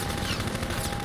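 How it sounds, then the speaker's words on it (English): Rapid gunfire in the shooter Half-Life 2, aimed at the player: a short, dense burst of shots, close and loud throughout. "Stop shooting me!"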